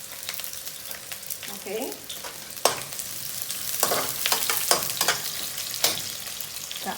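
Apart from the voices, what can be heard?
onions frying in a pan with fenugreek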